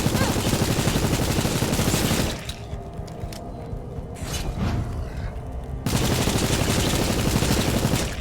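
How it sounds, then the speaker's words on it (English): Rapid bursts of submachine gun fire during a catacombs boss fight in the survival game Night of the Dead, loud dense rattling at the start and end with a quieter gap in between. "Now let's see if I can't light into him with the submachine gun."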